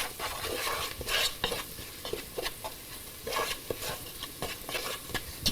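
Ground beef being stirred with a seasoning packet in a pan for a mild Indian-style dish with peas, a steady sizzle of frying with repeated scraping strokes of a utensil against the pan, close and fairly loud with no talking.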